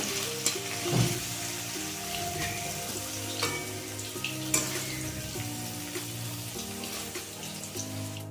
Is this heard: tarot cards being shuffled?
no